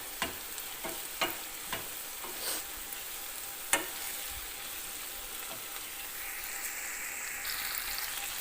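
Onions fry in hot oil in a pan for baingan bharta, a steady sizzle punctuated by several sharp spatula clicks and scrapes, with a brighter hiss rising near the end.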